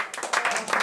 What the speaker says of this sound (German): kurz Applaus für Markus Herrmann